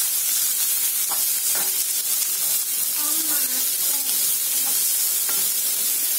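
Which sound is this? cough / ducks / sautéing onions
sautéing onions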